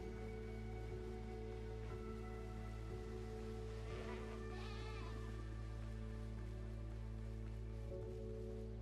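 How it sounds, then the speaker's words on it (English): Goats bleat in a video game over a constant droning game ambience, with a few short cries rising briefly around the middle. "Goats."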